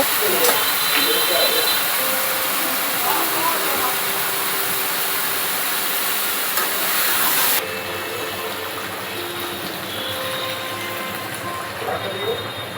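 Steady broadband hiss of water heating in a kettle in a home kitchen, loud at first and then dropping to a softer, continuing hiss partway through.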